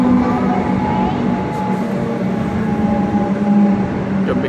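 Melbourne suburban electric train pulling into a station platform, a steady low rumble and rolling hum with faint squeals, continuous and fairly close throughout.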